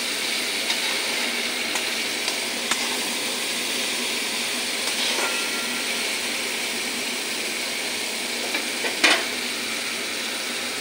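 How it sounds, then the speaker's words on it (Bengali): Spice masala fries in oil for a sarpunti fish curry with ridge gourd and tomato, giving a constant close sizzle with a few light clinks of stirring. "দেখো আমার মশলাটা কি সুন্দর কষে গেছে,"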